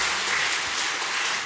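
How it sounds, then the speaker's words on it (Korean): Steady applause from a church congregation for the praise team, dense and continuous clapping filling the room at a constant level throughout. "우리 수관 찬양팀 격려 축복의 박수 한번 해주십시오."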